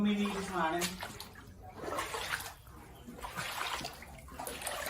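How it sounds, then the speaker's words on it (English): Floodwater runs steadily through a flooded hall, a continuous rushing wash that sits close and fairly loud, with people talking over it throughout. "It's water, folks."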